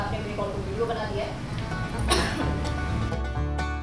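A few people cough in short bursts during a heated argument in a TV drama scene, with voices talking over the coughs.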